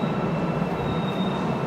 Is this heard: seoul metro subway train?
yes